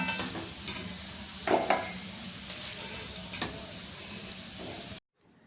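Sautéed carrot being scooped out of a pan of oil into a vessel, with scattered scraping clicks over a steady low sizzle that cuts off near the end.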